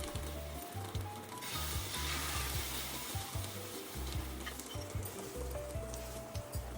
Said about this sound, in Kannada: ಮತ್ತು ಅದೇ ಪ್ಯಾನ್ಗೆ ಗಾರ್ಲಿಕ್ ಬಟರ್ ಹಾಕಿ ಮಿಕ್ಸ್ ಮಾಡಿದ ಎಗ್ ಬ್ಯಾಟರ್ ಅದರ ಮೇಲೆ